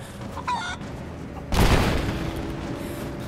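Chickens in Rise of the Tomb Raider: a brief cluck early on, then a sudden loud burst like an explosion that decays into a rumbling crackle, over a low game ambience.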